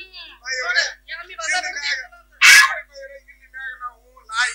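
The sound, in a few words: dog barking, imitated in a comedy play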